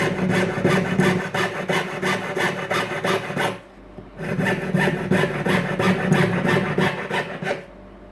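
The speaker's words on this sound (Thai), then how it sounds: "ก็เลื่อยนอกเส้นไปนะครับ ค่อยๆเดินไปเรื่อยไปนะครับ" Rapid, steady back-and-forth strokes of a fret saw cutting an amulet frame up close, pausing briefly once before resuming at the same brisk rhythm.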